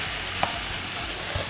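Diced ham and pasta are stirred together in a pan, a soft, close scraping shuffle over a low sizzle with a few small clicks, lasting only a moment.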